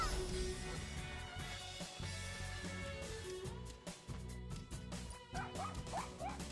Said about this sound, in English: I know that the dog's name is probably something like Lasvi